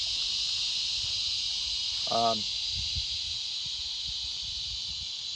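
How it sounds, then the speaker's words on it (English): A steady, high-pitched cicada drone fills the whole stretch, loud and unbroken, with a brief squeaky burst and a few low thumps partway through. "the cicadas are loud right now"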